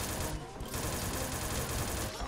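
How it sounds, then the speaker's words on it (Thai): Rapid, continuous SIG-Sauer MCX fire in a shooter game, a loud dense stream of shots with almost no break across the moment. "เป็นปืนอะไรที่โคตรดีดเลยยิงไม่โดน"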